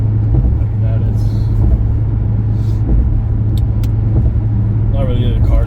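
A car in Sport Plus mode rolls along a bumpy, wavy highway at night. A steady low road and engine rumble runs underneath, with occasional thumps as people talk over it.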